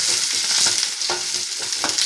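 Sliced onions, green chillies and curry leaves frying in oil as they are stirred in a pan for brinjal mezhukkupuratti, a loud, continuous close sizzle broken by soft scraping strokes of the spoon.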